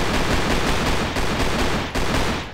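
Rapid gunfire from a VR shooter game in sport mode, dense overlapping shots crackling loudly and continuously with a brief gap near the end, no voices.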